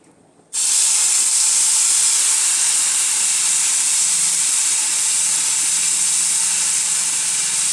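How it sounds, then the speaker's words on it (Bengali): Loud, continuous hissing sizzle of dried nalte jute leaves frying in a hot pan, bursting in suddenly after a quiet start and holding steady close to the mic. "আমি শাকটা ভাজি করে নেব।"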